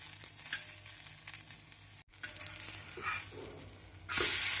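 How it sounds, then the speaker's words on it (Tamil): Carrot and onion uttapam dosa sizzles steadily in oil on a hot pan, a continuous close frying hiss with a brief break and a louder burst of sizzle near the end. "இந்தளவு தோசை வெந்து வரவும் நாம் திருப்பி விடலாம்."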